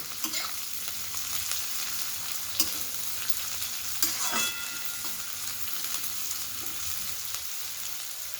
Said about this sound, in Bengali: সেই পেঁয়াজ কুচিটা কড়াইয়ের মধ্যে দিয়ে দেবো দিয়ে ভেজে নেবো